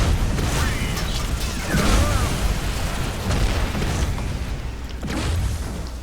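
Rocket launcher blasts in the shooter game Hard Reset, dense rumbling booms and crashing debris over a loud continuous wash of game noise, with someone talking over it.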